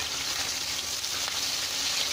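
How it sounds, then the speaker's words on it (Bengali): Onions frying in hot oil left over from frying fish: a constant, moderately loud sizzle with no talking, broken only by a brief brighter crackle midway. "এখন মাছগুলো উঠিয়ে এই তেলেই আমি পেঁয়াজ দিয়ে দিব।"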